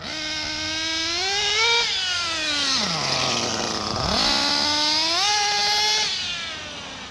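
Picco P7-R nitro engine in a TLR 8ight X Elite RC car, running rich after break-in while warming up: a loud, buzzing two-stroke whine that blips up in pitch, drops back to a low idle around the middle, then revs up again, with no talking.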